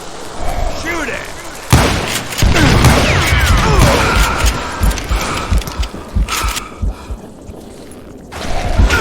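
Rapid gunfire in the Western shooter Call of Juarez: Gunslinger, with loud cracking shots and rattling bursts layered over game music and effects, thinning out toward the end before a final flare-up.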